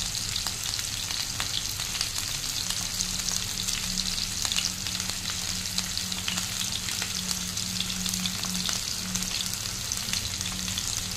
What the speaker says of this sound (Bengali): সবগুলো দিয়ে দিয়েছি, এবার একটু ভালো মতো ফ্রাই করে নেবো।